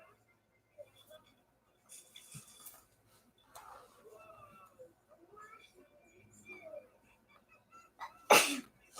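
A single sharp sneeze bursts out near the end, after scattered quiet chatter and light clinks in the background.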